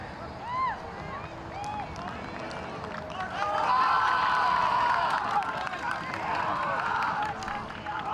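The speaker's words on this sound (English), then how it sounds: "I think you can hear the crowd, even though it is a really limited crowd." A small, limited crowd at a high school soccer match cheers and shouts in scattered bursts, fairly distant and modest in volume, with voices calling out across the field.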